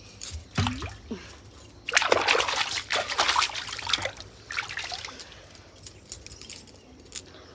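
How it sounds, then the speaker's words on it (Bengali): Tap water trickles and splashes while a cucumber is washed by hand, a close, uneven burst of running water that starts after a brief splash and tapers off. "শশাটা ধুয়ে দিচ্ছি"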